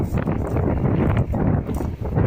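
Strong outdoor wind buffeting the microphone during a farmers' wheat stubble fire in a village field, a loud continuous rumbling gusty roar with no clear breaks.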